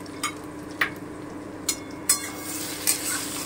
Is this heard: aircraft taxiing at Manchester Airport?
no